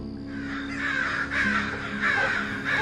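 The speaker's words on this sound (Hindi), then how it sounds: "उस किले के चारों तरफ से कौवों की आवाज़ आने लगी" Crows caw all around in a horror-story sound effect, several harsh, loud caws in an uneven sequence, with no speech.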